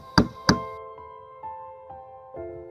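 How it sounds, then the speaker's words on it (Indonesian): Knocking on a door in an animated story: two sharp, resonant raps close together, then a few softer, ringing taps spaced out at a slow, even pace, with no talking. "Tiba-tiba ada orang yang mengetuk pintunya."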